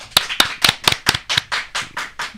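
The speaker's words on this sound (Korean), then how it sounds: "큰 박수로 환영해 주십시오." A small group claps to welcome a party-leader guest onto a Korean political talk show, giving about ten sharp, evenly spaced claps that soften and blur toward the end. The clapping is close and dry, with no talk over it.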